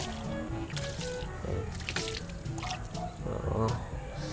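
Water is poured from a hand-held dipper onto a car wheel coated with Koby wheel cleaner, giving splashes and dripping under a busy, cluttered background.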